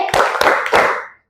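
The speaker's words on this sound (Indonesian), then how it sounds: "kasih tepuk wow dulu. Tepuk wow." A group claps a short rhythmic pattern of three close, distinct bursts, each sharp and loud, ending abruptly as the chant-like clapping stops.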